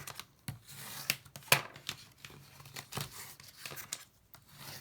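Scored laminated card is folded and burnished for a cracker gift box, giving faint, close crinkles, scrapes and sharp snapping taps at an irregular pace, with no voices.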